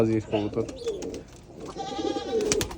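Pigeons for sale coo in low, throaty bursts at close range, mixed with busy overlapping talk and other bird calls in a crowded market setting.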